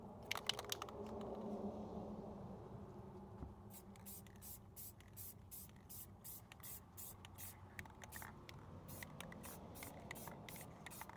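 Bursts of clear coat spraying onto a Pontiac Grand Prix, a steady hiss broken into repeated short passes of the spray gun, close and fairly loud over a low background rumble.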